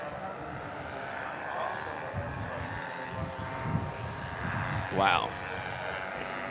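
Low-flying light airplane doing aerobatics over a water ski championship lake, a steady distant engine drone with a rising whine near the end, under wind and commentary, with a brief exclamation from a voice.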